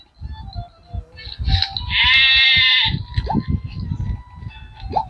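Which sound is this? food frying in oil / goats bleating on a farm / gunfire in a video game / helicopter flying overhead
goats bleating on a farm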